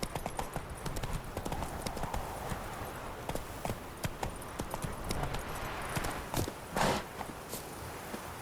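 Hooves of the horse Roach clip-clop at a walk in The Witcher 3, a close, irregular patter of hoof strikes with light ambient game sound behind it.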